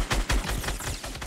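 Rapid bursts of gunfire in a Fortnite match, a fusillade of loud, close shots with a chopping rhythm, overlapping and continuous with no voice.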